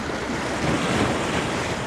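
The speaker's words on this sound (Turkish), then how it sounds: "Yalnız dalgalar da Sağlam vuruyor." Sea waves break hard against the Turkish shoreline during light-rod fishing, making a loud, continuous rushing wash mixed with wind buffeting the microphone, with no voices.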